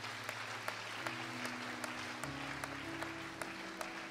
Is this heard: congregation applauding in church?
yes